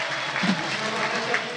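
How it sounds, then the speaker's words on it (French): An arena crowd applauds as the Benfica Lisbonne roller hockey team enters against Dinan, a steady roar of clapping and crowd noise with a voice talking over it. "Les applaudissements, on va vous laisser vivre l'ambiance pour l'entrée des Portugais du Benfica Lisbonne"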